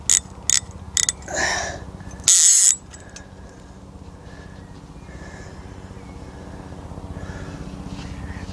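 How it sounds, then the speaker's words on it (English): Coarse, loud ratchet of a cheap centre pin fishing reel, heard as a fast rattling clicking run after a few sharp knocks, continuing as a steady buzzing tick close by with no talk. "on this cheap reel is quite a coarse, loud ratchet, as you can hear"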